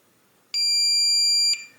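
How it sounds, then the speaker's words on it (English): A Kwikset Powerbolt 250 electronic door lock sounds a single long beep for about a second, high-pitched and steady, in an otherwise quiet room. "once you hear that long beep, release it"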